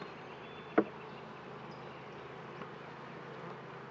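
A low, steady hum of honeybees around an open hive, with a sharp knock from handling the equipment early on and a few faint clicks later.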